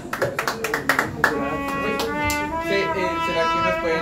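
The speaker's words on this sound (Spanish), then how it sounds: "Fuerte aplauso." Applause from guests at a birthday celebration with mariachi music: a burst of uneven clapping at the start that fades into sustained music tones, with faint voices in the background.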